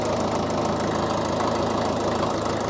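A vehicle engine runs at a steady, rough idle with a dense low rhythmic chug and vibration, loud and constant, while first gear is selected, with no talk.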